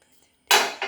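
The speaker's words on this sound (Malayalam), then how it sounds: "അപ്പോൾ നമുക്ക് ആദ്യം നമ്മുടെ ഇരുമ്പംപുളി ഒന്ന് കട്ട് ചെയ്ത് തരാം." A knife cuts bilimbi (irumban puli), giving two close, sharp contact sounds after a quiet moment, the first longer and the second briefer and softer.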